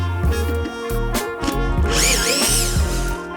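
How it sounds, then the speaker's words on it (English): A power drill whirs in repeated short bursts while backing screws out of the front panel of an arcade cabinet, loud and close with brief pauses between spins and some rattling. "let's get the front panel off. And it's just mounted with screws."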